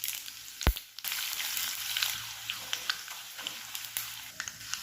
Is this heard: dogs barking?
no